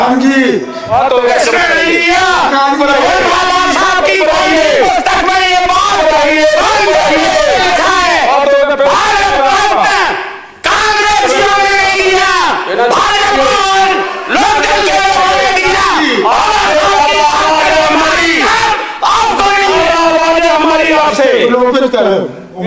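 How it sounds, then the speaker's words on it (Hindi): Legislators in a state assembly session in India shout and talk over one another, a dense, loud, continuous babble of raised voices with heckling, broken by a brief lull midway. "ज्यादा मत चिल्लाइए"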